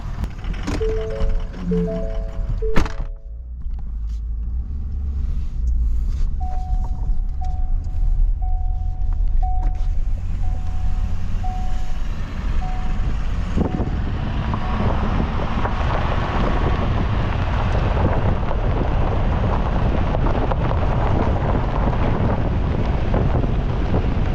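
Ford F350 work truck engine idling and running after a hard start, a loud steady rumble with heavy wind and road noise, preceded by a brief chime pattern.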